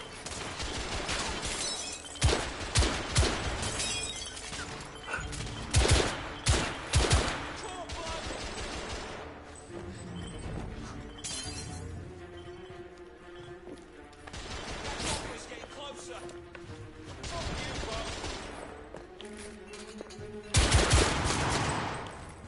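Gunfire in the PS4 game The Order: 1886, bursts of loud shots clustered near the start, again around six seconds and at twenty-one seconds, amid dense game effects and music with someone talking over parts.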